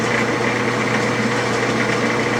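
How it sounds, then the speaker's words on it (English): A lathe internally threads an aluminum nut with a threading tool, giving a steady mechanical hum and whir with a faint cutting hiss, close and continuous, no talk. "I am now internally threading the aluminum nut."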